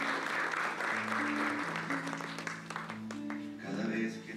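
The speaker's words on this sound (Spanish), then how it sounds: "Un aplauso." Audience applause for a birthday celebration, steady clapping running throughout while a melodic song with sustained sung notes plays loudly over it.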